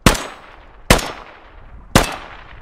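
Three sharp, loud sniper rifle shots ring out at the firing range in the video game Squad, spaced about a second apart, each a hard crack followed by a fading tail.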